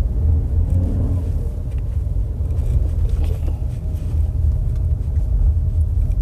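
A Toyota Kijang Innova Zenix Hybrid swings through a sharp U-turn, its cabin filled with a steady low road rumble and engine drone that runs evenly throughout without any voices.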